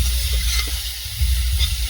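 Spices and green chili hit hot oil for tempering in an outdoor village kitchen. The result is a loud, continuous sizzle with a low rumble underneath and no voices.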